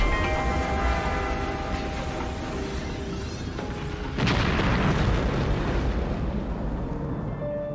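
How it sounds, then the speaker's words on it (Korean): A 500 kg Mafia bomb planted in a drainage pipe under a road is remotely detonated, with a sudden heavy boom partway through that breaks into a loud, sustained rumbling roar after a lower background drone. "리모컨으로 폭발시켰던 것이죠."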